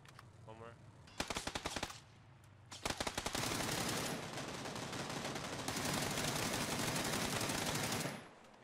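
Rapid automatic gunfire in a multiplayer shooter video game, loud bursts of quick rhythmic shots followed by long sustained volleys, with a brief voice at the start.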